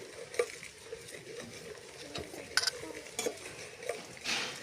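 Cashews roasting in a pan for milk payasam, a faint soft sizzle broken by light stirring scrapes and occasional clinks of a utensil against the pan, no talk.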